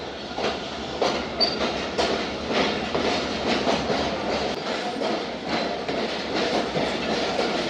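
A late-running Zakariya Express train rolls into a station, its wheels clicking in a steady clickety-clack over the rails beneath a constant rumbling hiss, fairly close and unbroken throughout, with no voices.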